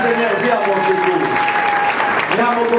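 Steady, dense clapping from a church congregation fills the space, with voices and sustained tones mixed in under the applause, close and loud from start to finish.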